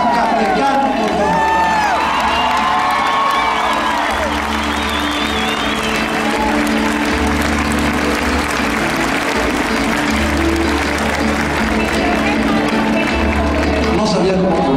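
A concert crowd applauds and cheers loudly for a mariachi band, with whoops and shouts over continuous clapping while someone speaks over it and faint music runs beneath.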